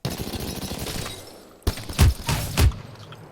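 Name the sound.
RE45 pistol firing in the video game Apex Legends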